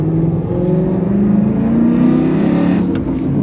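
A 2008 BMW E92 M3 revs with its exhaust valves open, a loud, close, continuous engine roar whose pitch climbs steadily over several seconds.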